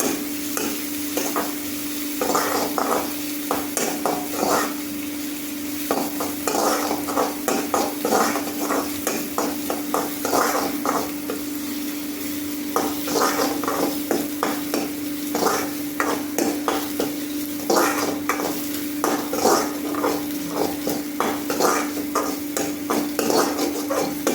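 Ginger, garlic and green chilli sautéing in a pan for a Kerala fish curry, a steady close sizzle with frequent scraping stirs of a spoon against the metal, no voices.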